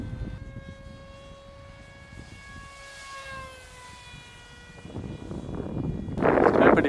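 Small Silvereye UAV model aircraft in flight under electric propeller power, too heavy and moving fast, giving a steady whining drone with a gently shifting pitch, then louder rushing wind and noise as it passes close.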